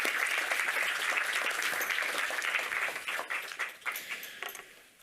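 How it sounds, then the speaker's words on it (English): Sustained audience applause at a conference on Earth system boundaries, steady dense clapping from a room-sized crowd that holds strongly, then thins and fades over the last two seconds. "Give her a big round of applause."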